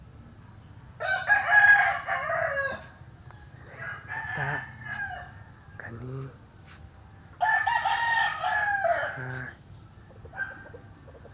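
A rooster crows twice, loud and close, with a few short clucks in between and a brief spoken word near the middle.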